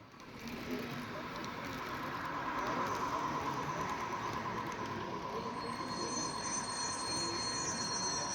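Miniature model train running on a large modular club layout reproducing a French regional rail line, with a steady rolling rumble and high wheel squeal sustained throughout, moderately close.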